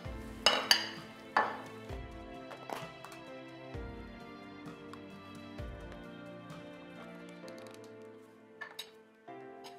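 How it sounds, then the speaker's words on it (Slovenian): A spoon clinks and scrapes in a container while mixing protein powder, banana, cottage cheese and water into a creamy mass, close up, with irregular taps and knocks and no talking. "Vse sestavine skupaj zmešamo."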